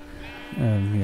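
A single sheep bleat from a video game sounds out after a brief quiet moment, short and fairly close, with a slightly synthetic quality.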